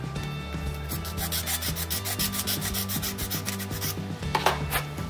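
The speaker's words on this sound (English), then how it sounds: "you get much more control, much more uniformity over the course of your filing" A file rasps back and forth on a plastic part from an AMT 1/420 USS Defiant NX-74205 model kit in fast, even, close strokes, a steady scratchy rhythm with no talking.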